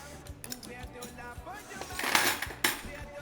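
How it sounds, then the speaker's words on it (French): Dishes and cutlery clinking in a home kitchen as a dishwasher is unloaded, a steady run of light clatters and rattles with a few louder, sharper clinks near the end, close by. "Je range mon lave-vaisselle en même temps."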